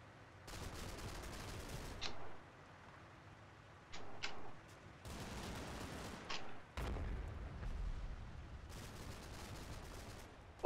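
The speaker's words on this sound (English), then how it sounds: "It's a terrible mortar shot." Mortar shells burst in the Combat Mission: Battle for Normandy game, fighting for le Haut du Bosq, as a rolling series of mid-distance booms and crackling detonations that come in several clustered bursts over steady battle noise.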